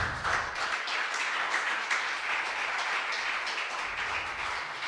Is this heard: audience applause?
yes